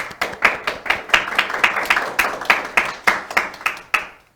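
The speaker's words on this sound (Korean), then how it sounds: "김진수 교수님께 다시 한번 박수 부탁드리겠습니다" Audience applause at the end of a Saturday science lecture on microplastics, a short burst of fairly sparse clapping with distinct individual claps in an irregular rhythm, close and fading out at the end.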